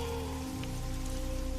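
Steady, dense rain falls continuously over a low droning tone, setting a dark mood for a horror story.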